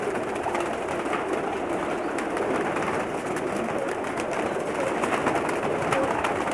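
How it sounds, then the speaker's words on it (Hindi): Teddy pigeons in a loft in Jeddah, Saudi Arabia, a dense flock whose soft overlapping coos and wing flutters merge into a constant murmuring bed, close and busy throughout. "मैं आपको दिखा भी नहीं पा रहा क्योंकि कबूतरों का रश बहुत ज़्यादा है जी"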